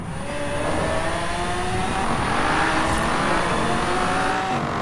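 A Hoonigan car speeds off in the Forza Horizon 4 racing game, its engine roaring loud and steady with rising, revving tones as it accelerates away, heard alone without talk.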